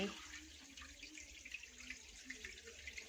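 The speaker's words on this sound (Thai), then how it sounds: "ตอนนี้เขาเริ่มปล่อยน้ำเริ่มจะใส่น้ำเข้าไป" Water pours steadily into a tank for rice-field crabs, a soft continuous rushing hiss with no one speaking.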